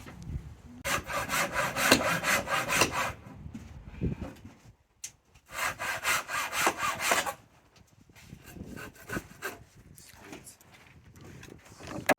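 A handsaw cuts roof timber during a loft conversion in two loud rasping bursts of quick back-and-forth strokes, with a pause between them, then quieter scraping and handling knocks.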